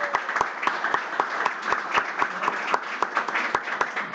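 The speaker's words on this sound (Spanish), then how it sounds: "así que le damos un fuerte aplauso." A small audience at a workshop on multiple intelligences claps steadily, individual sharp hand claps distinct in a quick, regular rhythm, moderately near and without talk.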